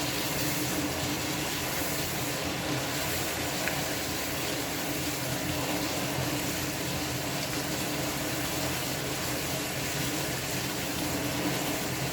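Water pours steadily into a pot of aloo gosht curry, giving a continuous splashing, gushing wash that stays even and fairly loud the whole time, with no voice over it.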